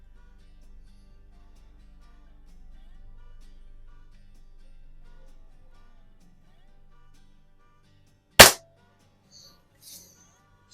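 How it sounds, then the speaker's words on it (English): One sharp, loud crack of an air rifle, a Hy-Score model 801 or Beeman R7, fired at plinking targets in a garage. It breaks a near-silent stretch, followed by a faint small knock. "shoot a couple plinking targets with each one too"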